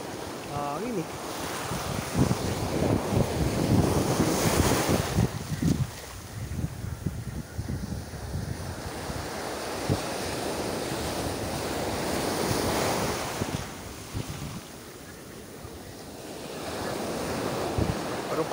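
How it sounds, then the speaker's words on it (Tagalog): Steady wind buffeting the microphone outdoors while fishing, with waves washing nearby, a continuous loud roar that swells and eases. "Hangin. Hangin guys."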